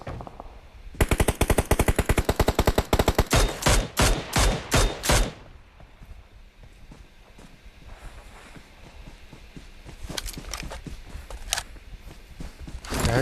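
Gunfire in the PUBG Mobile video game: a fast burst of loud automatic shots followed by single spaced shots, then quieter game noise and a few more distant shots near the end.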